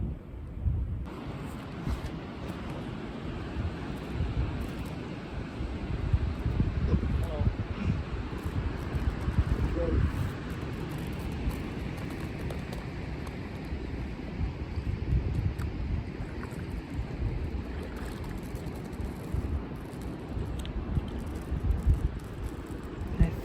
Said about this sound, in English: that wind is keeping things cool